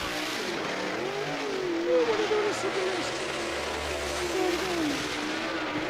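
Super late model race cars in a qualifying session at Blackwater Speedway in Florida drone steadily at a distance, engines whining up and down under a commentator's voice.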